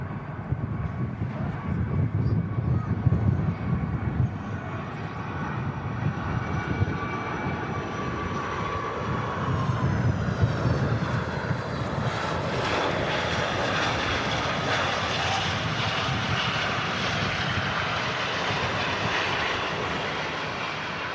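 Titan Airways airliner at Manchester Airport, its engine roar loud and steady close by, swelling into a broad whine and rushing wind as it passes over the full length.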